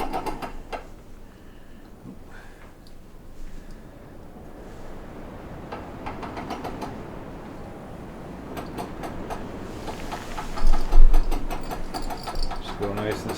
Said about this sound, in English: And then just start turning the crank.